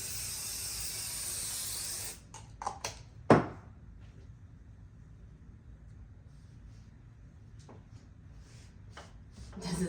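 An aerosol spray can sprays onto quilt fabric in a steady, close hiss for about two seconds. It cuts off abruptly, followed by a few light rustles and clicks of handling the fabric.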